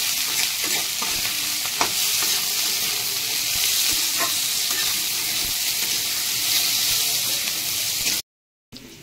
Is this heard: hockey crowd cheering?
no